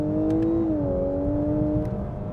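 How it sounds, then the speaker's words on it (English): A Lexus LC 500h hybrid's six-cylinder engine hums at a steady idle-like drone, its pitch briefly rising and settling as it revs, close and continuous without talk. "So that's the sound you get from the 6-cylinder engine."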